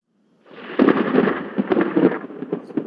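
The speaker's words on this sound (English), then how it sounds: "There is thunder sound. You can also listen to." A thunder sound effect from a sound library: a loud low rumble with crackling bursts that rolls on for about two seconds without fading out.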